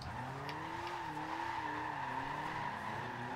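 Toyota Celica GT tuned for drifting in Forza Horizon 2, engine droning at steady revs with a long wavering tire squeal as the car slides in second gear, continuous and fairly smooth.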